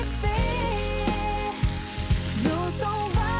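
Tomato, onion and potato sauté in oil in a pan with a continuous sizzle, broken by a few scraping and clinking stirring sounds spaced through it.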